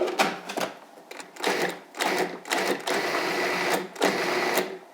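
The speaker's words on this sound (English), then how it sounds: "So in a food processor, you take just the strawberries, put those in there, and we're going to give them just a little ride." Food processor pulsing fresh strawberries in several short, loud whirring bursts separated by brief pauses, coarsely chopping the fruit rather than pureeing it, with no talking.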